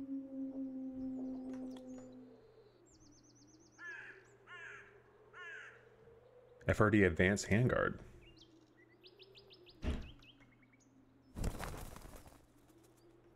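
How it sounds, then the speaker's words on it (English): Bird calls and wingbeats in the survival shooter Zero Sievert: scattered chirps and caws, several sharp bursts of birds flapping past close by, with speech. "I wish the birds would stop flying by me"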